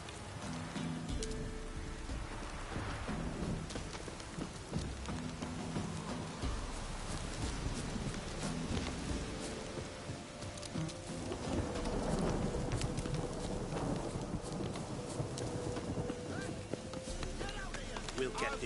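Rain falls steadily in the video game Witcher 3, with low rumbles of thunder rolling in and swelling near the middle, a continuous wet hiss under ambient game sound.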